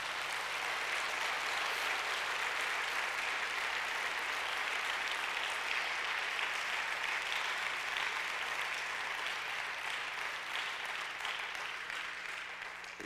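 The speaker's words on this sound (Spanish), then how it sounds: "¿cuántos le pueden dar un aplauso de agradecimiento a Dios?" Sustained applause from a church congregation thanking God, a dense, even roar of clapping filling the room for about thirteen seconds before easing slightly at the end.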